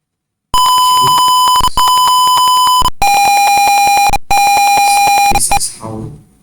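An Arduino-driven piezo buzzer beeps loudly in long, shrill tones with brief gaps, its pitch dropping slightly midway, then cutting off into a short rattle.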